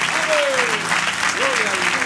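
A church congregation claps together in a loud, dense burst of applause that holds steady throughout, with a voice gliding and speaking over the clapping.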